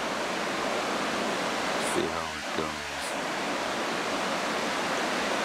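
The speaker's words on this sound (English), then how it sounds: "spotted this waterfall right at the side of the track" A waterfall beside a track roars as a steady, close hiss of falling water throughout. A person briefly speaks over it near the middle.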